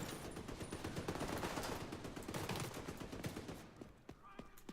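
Rapid video-game gunfire, a dense machine-gun rattle of overlapping shots, runs continuously at fairly low level with a voice faintly mixed in, thinning near the end.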